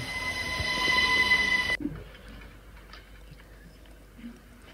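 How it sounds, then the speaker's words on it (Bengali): A train arriving on snow-covered tracks in Belgium, a loud rumble with high wheel squeal and tonal whine that cuts off abruptly, leaving faint clicks and a quiet outdoor hush. "সাদা ট্রেন আসছে সাদা ট্র্যাকের উপর।"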